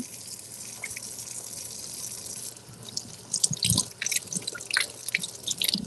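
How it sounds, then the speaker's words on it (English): A kitchen tap runs while hands are washed beneath it, a steady close stream of water with irregular splashes and drips that grow busier toward the end. No voices are heard. "I'm gonna wash my hands again."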